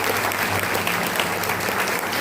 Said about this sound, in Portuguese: Se você quiser, pode aplaudir o nome de Jesus